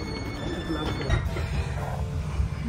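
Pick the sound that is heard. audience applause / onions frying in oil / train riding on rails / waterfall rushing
train riding on rails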